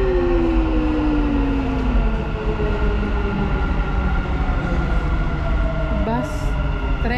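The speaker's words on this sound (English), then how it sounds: "The train to Expo 2020 will arrive at platform 2." A Dubai Metro train arriving at a station platform rumbles steadily at close range with a rising whine, in a large echoing space, with brief squeals near the end.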